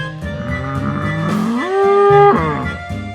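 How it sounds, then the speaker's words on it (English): A bull lowing in one long, loud moo that swells and holds a steady tone before breaking off, framed by other shorter bovine calls at close range with no talk. "Bull."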